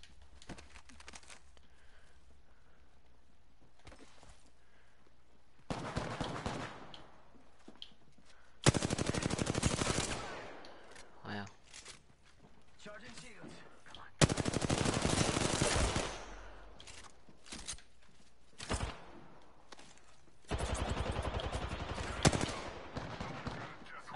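Video game gunfire, most likely from a battle royale match, comes in several loud automatic bursts separated by quieter stretches, with occasional single shots and some faint crinkling between them.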